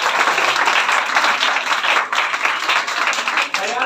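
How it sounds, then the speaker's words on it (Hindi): An audience applauds loudly for a topper at a school toppers' award ceremony, a dense, close burst of many hands clapping that stays steady throughout, with a voice faintly underneath. "हयात के लिए जोरदार ताली।"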